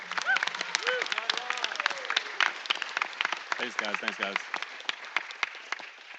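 A round of applause at a Siege 2018 gaming townhall, with a crowd clapping steadily through the whole stretch. Someone speaks briefly over it, and whistles and cheers rise now and then.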